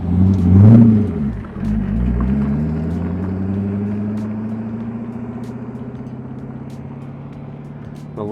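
A 2001 Chevrolet Corvette C5 roars past in a loud flyby, its engine revving hard as it passes, then settling into a steady, slowly fading drone.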